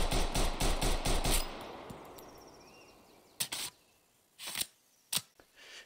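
A rapid string of about eight gunshots in the shooter game Road to Vostok, followed by a pause and a few single sharp shots, each with a fading tail, no talking.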